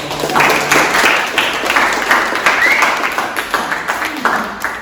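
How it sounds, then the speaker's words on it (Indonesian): A school class applauds the top three ranked students after a quiz, a lively spell of clapping from many pupils that rises and falls, with a few voices mixed in. "Silakan beri tepuk tangan untuk"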